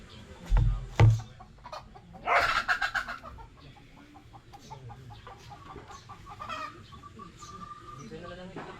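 Chickens cluck near and far around a rural home, a few loud close squawks early on, then softer scattered clucks and calls continuing under quiet background sounds.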